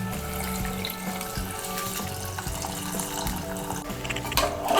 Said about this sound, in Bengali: আমি এর মধ্যে 1 কাপ আর হাফ কাপ গরম জল দিচ্ছি